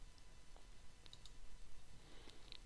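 Computer mouse clicking: a few faint, sparse clicks spread over a couple of seconds against a low, steady room hum.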